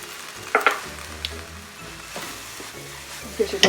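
Pickled ginger sizzles in a hot pan for pad Thai, a steady fry with scraping stirs and a few sharp clinks of the utensil against the pan.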